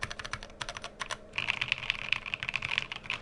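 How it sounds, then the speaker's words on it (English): Keys clack on a Hive 60 prototype mechanical keyboard with a polycarbonate plate and gasket mount, a quick run of close, crisp keystrokes, sparse at first, then a denser rapid burst. "So when I'm typing on this, I can definitely feel that polycarb plate flex."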